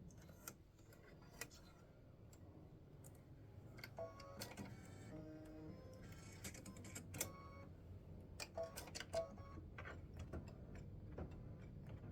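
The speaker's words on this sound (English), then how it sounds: "it's just going to stitch sealed with a kiss across here, S-W-A-K." An embroidery machine stitches red-thread lettering onto fabric, sounding as quiet ticking and clicking with irregular taps over a low hum, faint and close, with no voices.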